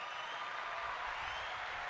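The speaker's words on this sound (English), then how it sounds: "Round of applause to Nick and Blue." Applause for podcast guests, a steady wash of clapping and crowd noise that holds at an even level for a couple of seconds, with no speech over it.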